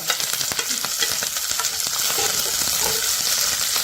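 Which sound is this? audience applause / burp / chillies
chillies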